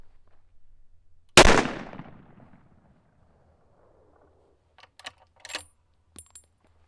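One loud, sharp report from a suppressed 300 Win Mag rifle with a large muzzle brake, fired outdoors and trailing off quickly, followed after a pause by a few faint metallic clicks and handling sounds.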